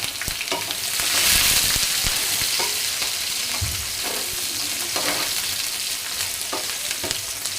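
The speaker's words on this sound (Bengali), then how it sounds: "এগুলো সবগুলোকে ভালো করে লাল করে ভেজে নিব" Onion, garlic and dried chilies sizzle steadily in a hot pan of oil, with occasional scrapes and clinks as they are stirred, close and continuous with no talking.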